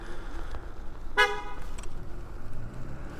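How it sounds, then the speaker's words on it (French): A car horn gives one short sharp honk at a Kukirin G2 Ultra e-scooter rider on a city street, loud against a low background of traffic rumble, then fades back into road noise. "Pourquoi ça m'a klaxonné?"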